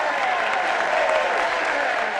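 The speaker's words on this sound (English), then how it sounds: "Hey, that got an applause." Audience applause in The King of Comedy, a full, even burst of clapping from a large crowd that stays loud and unbroken before cutting off abruptly.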